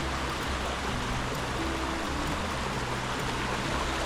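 A river flows on a hike from Penistone to Edale, its steady broadband rush close and unbroken, with no talking.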